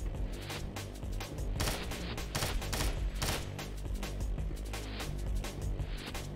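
Gunfire in Madness: Sierra Nevada, a dense, continuous barrage of rapid shots and bursts that overlap into a sustained rattling fusillade, loud and close, lasting several seconds.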